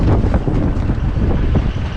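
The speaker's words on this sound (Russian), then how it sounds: "У меня тент разбушевался, ветер поднялся к вечеру." Strong evening wind buffets and flaps a truck's tarpaulin cover, producing loud, gusty rumbling bursts close to the microphone.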